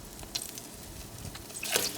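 Warheads sour candies deep frying in hot oil, giving a steady, close sizzle with brief crackling bursts that swell louder near the end.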